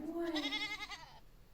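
A single goat bleats once, a wavering nasal cry lasting about a second, fairly close and alone.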